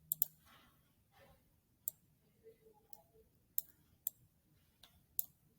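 A computer mouse being clicked while writing on screen, sharp isolated clicks spaced irregularly, some in quick pairs, close by and quiet, with no speech.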